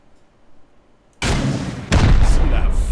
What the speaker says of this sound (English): So we'll go ahead and pop a rocket in there, and you hear that? It's like boosh, and it actually shoots fire out of the front.